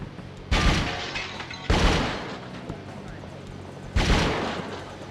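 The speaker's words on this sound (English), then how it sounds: "Pistols feel great in this game." Pistol gunfire in a video game: three sharp, loud shots spaced a second or two apart, each with a decaying tail, over a low background.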